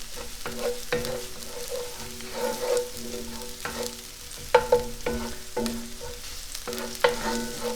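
Purple garlic sizzles and fries in a pan, a close crackling hiss punctuated by scraping stirs and occasional sharp pops, with no talking.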